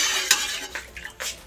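A metal spoon stirring milk in a pot on a gas stove: a few short clinks and scrapes against the pot, close and moderately loud, with no talking.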